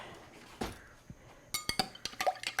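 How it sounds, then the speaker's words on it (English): A bourbon pumpkin cocktail is stirred in a glass, giving a quick run of light, bright clinks from the spoon against the glass after a couple of softer knocks, close and clear over quiet background. "I'm going to go ahead and just mix it up"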